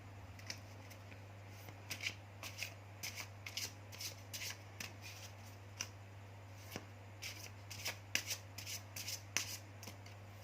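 Tarot cards shuffled by hand in a reading, a run of soft riffling bursts and rubs at irregular intervals, fairly quiet and close over a steady low hum, with no talking.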